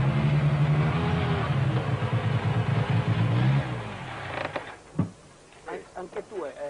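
A Lancia Delta S4 rally prototype engine from 1984 testing drones steadily for a few seconds, then drops away, with people talking over it and a few sharp bursts near the end.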